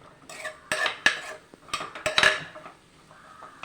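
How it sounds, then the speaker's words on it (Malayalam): A spoon stirring and scraping curry in a metal pot after turmeric goes in produces irregular clinks and knocks against the sides, close by and intermittent, with no speech. "നമുക്കൊന്ന് ഇളക്കി കൊടുക്കാം."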